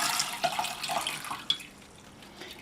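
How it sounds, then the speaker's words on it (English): Cabbage cooking water is poured through a strainer into a pan, a splashy, trickling pour with small drips and one sharp clink, fading to a quieter trickle. "So I'm going to strain the cabbage water out and into a pan."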